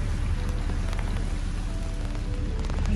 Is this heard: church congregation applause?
no